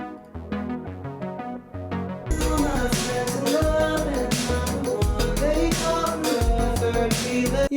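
A full song mix of a cover song, where layered percussion and a shaker drive a busy chorus alongside drums and other instruments.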